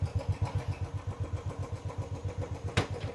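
A Royal Enfield Bullet motorcycle idling with its characteristic steady low thump, even rapid beats, then a brief sharper clunk near the end as it is shifted into first gear, close with no talk.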